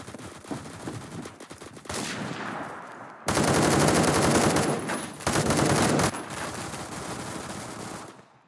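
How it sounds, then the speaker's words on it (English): Rapid bursts of automatic gunfire, loud and close, rattle in long sustained volleys with brief gaps between them. "there were just immediate shots fired"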